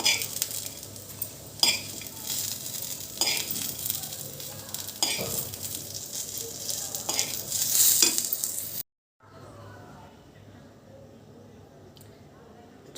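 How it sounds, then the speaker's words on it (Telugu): Gobi fry with curry leaves being scooped from a pan into a bowl: repeated scraping and clinking of a spoon against metal over a faint sizzle, close up, ending in a brief quiet pause. "మొత్తం బౌల్లో తీసేసుకుందాం ఇప్పుడు."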